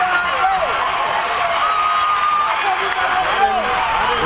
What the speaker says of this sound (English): The crowd is certainly getting excited